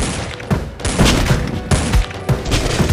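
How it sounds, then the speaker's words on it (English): Repeated revolver gunfire in the zombie shooter game Dead Ahead Zombie Warfare, loud sharp shots landing roughly every half second over a dense game soundscape of booms and thuds. "Just keep shooting with the revolver."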